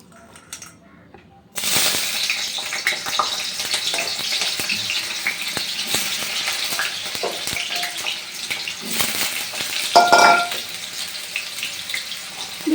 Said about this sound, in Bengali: সেই আলুগুলো দিয়ে দেব ভাজার জন্য